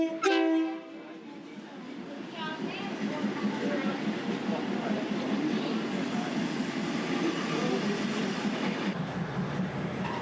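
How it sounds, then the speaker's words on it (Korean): A train pulling out of Maeklong railway market station in Thailand rumbles steadily and close for about ten seconds, with a short tonal horn-like burst at the start. "ผู้โดยสารโปรดขึ้นบนขบวนรถให้เป็นที่เรียบร้อยค่ะขณะนี้ได้เวลาขบวนรถออก"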